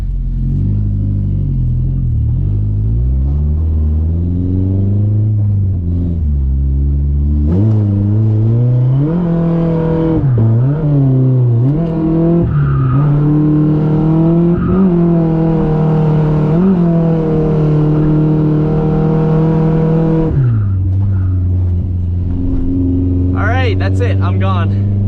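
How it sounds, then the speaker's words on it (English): Cars pass nearby on a road, heard as a loud, continuous engine drone whose pitch rises and falls as vehicles go by, with no break in the traffic noise. "there's a lot of cars going by"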